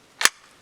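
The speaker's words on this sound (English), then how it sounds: "I'm just gonna zero the gun real quick." A single sharp rifle shot, loud and close, fired at a metal target about 15 yards away against a hill backstop outdoors, with a quick decay and no talking.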